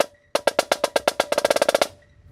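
Snare drum playing a seven-stroke roll led by the left hand and capped with an accent: about eight crisp, evenly spaced strokes, then a faster tight cluster of hits, all close and loud with no talking.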